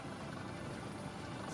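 Naval AS-565 Panther helicopter flying over a warship at a military anniversary celebration, its steady, loud rotor and turbine roar filling the whole stretch without a break.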